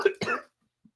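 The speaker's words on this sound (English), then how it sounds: "Always coughing a lot." A man with a stuffy nose gives a short, close double cough, two quick bursts followed by silence.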